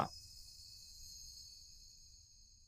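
Faint, continuous high-pitched cricket trilling drones on in a quiet forest at night, steady and unbroken after a brief soft bump at the start.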